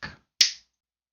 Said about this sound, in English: I'm going to snap my fingers and we'll be right back.